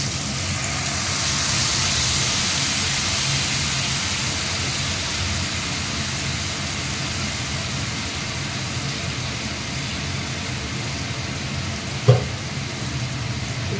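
Ground green chili and ginger paste sizzles in a pan for a fish curry, a steady broad hiss with a low rumble beneath, broken by one sharp clink near the end.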